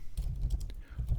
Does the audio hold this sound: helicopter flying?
no